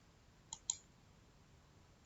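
A computer mouse clicks twice in quick succession, close and crisp against a quiet room, with a faint third click near the end.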